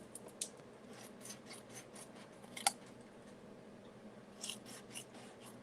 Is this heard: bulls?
no